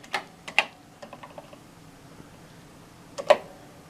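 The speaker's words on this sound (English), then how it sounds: "The computer works, the display works, the keyboard works" Keys clack on the keyboard of a Commodore PET 2001-32B computer, a few sparse, close, crisp taps with gaps between them and a louder pair of strokes near the end.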